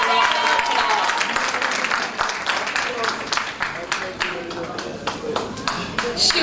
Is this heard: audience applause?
yes